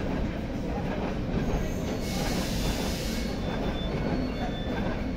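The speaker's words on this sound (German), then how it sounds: "Zug auf Gleis 3, S46, nach Grünau" A regional train rumbles out of Berlin-Schöneweide station, wheels grinding and rattling with a rising metallic squeal midway, loud and close.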